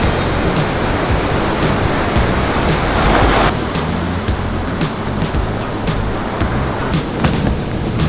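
Ocean surf at Malibu beach in California rolls and hisses in a steady, loud wash of broadband noise, continuous throughout with no voices.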